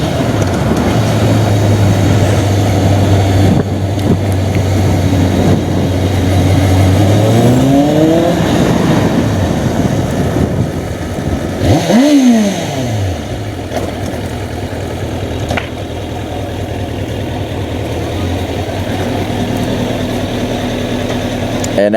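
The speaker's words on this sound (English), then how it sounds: "I'm going to show you the bike. I'm going to rev it a little, and then I'm gone." A Kawasaki Ninja sport motorcycle engine idles loudly and close by, then revs up in rising sweeps with a sharp throttle blip midway before settling back to a steady idle.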